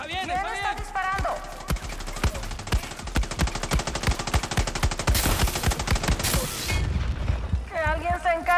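Rapid automatic gunfire from a Far Cry 6 shootout, dense bursts of shots crackling close and loud for several seconds, with shouted voices before and after the volley.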